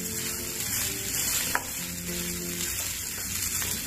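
Grated coconut roasting in a pan over a low gas flame gives a steady, close sizzling hiss with light scraping from stirring, and no voices.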